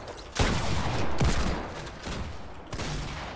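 Gunfire in the video game Fortnite comes as a rapid fusillade of loud, close shots, with sharp bursts repeating over about three seconds of dense in-game noise.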